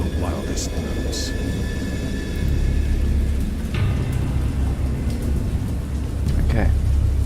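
A thunderstorm rolls on with deep, steady rumbling thunder beneath continuous rain, heavy and close throughout, with a few brighter crackles on top.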